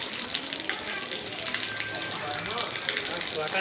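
Water splashes and gushes continuously, a steady rushing wash of spray close by, with voices faintly mixed in the background.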